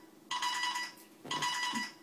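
A ZOMM wireless leash rings for an incoming phone call: two bright electronic ringtone bursts, each about three-quarters of a second, separated by a short gap, close and clear with no talking.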